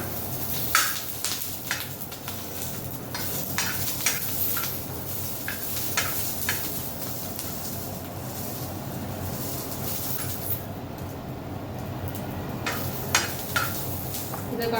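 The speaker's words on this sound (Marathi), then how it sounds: "एका साईडला आपण आपला मसाला भाजतोय. मिरच्या छान दोन्ही साईडने भाजू द्यायच्या." Green chillies and spices roast on a hot griddle with a steady sizzle, broken by frequent sharp scraping and tapping clicks as they are stirred and turned.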